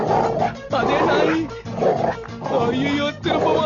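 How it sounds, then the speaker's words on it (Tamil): A dog barks and growls in loud, rough bursts, four in quick succession, close by and filling the scene. "அதே நாய்."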